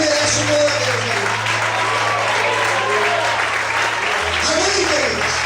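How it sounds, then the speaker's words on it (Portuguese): Congregation applause during a church sermon, a loud continuous wash of clapping with a low hum beneath and faint voices mixed in. "Será que você pode aplaudir e exaltar o Senhor?"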